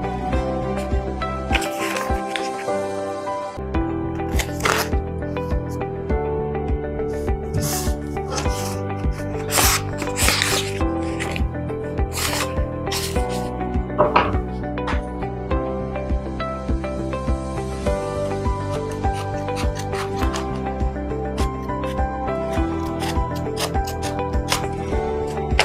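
A plastic bottle is sawn through near the top and bottom, giving close, continuous rasping and scraping strokes with uneven rhythm and occasional sharper crackles of the plastic.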